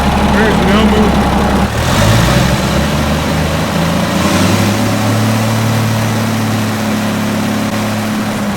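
A Cummins 220 diesel engine runs with boost, a loud, steady low rumble with a whine above it. The revs shift slightly partway through and the noise continues unbroken to the end.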